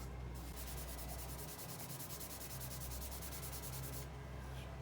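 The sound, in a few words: sanding mistletoe wood on a lathe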